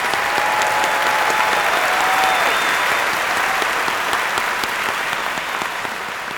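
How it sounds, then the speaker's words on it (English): A large crowd applauds at a college commencement ceremony, a steady, loud wash of clapping that holds evenly and eases slightly toward the end. "That deserves a round of applause"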